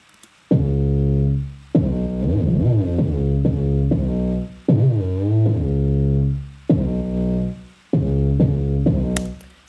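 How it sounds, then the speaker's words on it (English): Six or seven loud 808 bass notes from a Fat Library preset, compressed with drive and set to legato glide, with some notes sliding in pitch and separated by short gaps, alone with no talking. "and my 808 sound like this."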